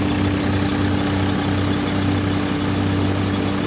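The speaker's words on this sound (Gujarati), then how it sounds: "આ રીતનું ટ્રેક્ટર ચાલે છે બિલકુલ પણ આરપીએમ ડ્રોપ કરતું નથી" A tractor powering a wheat thresher at full load keeps up a steady, dense drone with a low engine throb and broad mechanical roar, holding constant with no drop in speed and no voices.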